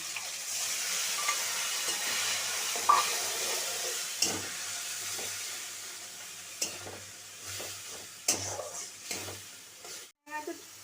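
Onion and tomato paste frying in a pan with cardamom and cumin, a soft continuous sizzle broken by scraping stirs and occasional clinks of a spoon.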